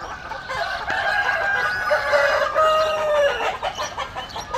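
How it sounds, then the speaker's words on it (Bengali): Hens cluck busily and roosters crow on a poultry farm, a close, loud chorus of overlapping calls with drawn-out crows rising above the steady clucking, no talking. "মুরগিগুলো অনেক লাজুক"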